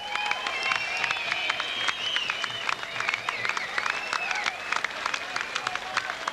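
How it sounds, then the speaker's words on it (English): A boxing crowd in an indoor dome applauds after a fight, dense sustained clapping with whistles and cheers filling the arena. "That deserves an extra round of applause"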